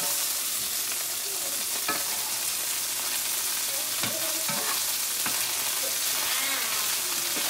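Butter melts and sizzles in a pan with asparagus, a constant bright frying hiss broken by a few light clinks and stirring scrapes, with no speech.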